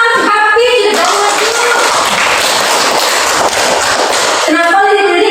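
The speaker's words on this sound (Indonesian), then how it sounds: "Tepuk tangan untuk Hafid." Children in a classroom clap for a classmate, producing a loud, dense burst of applause that lasts a few seconds. A voice speaks just before and just after it.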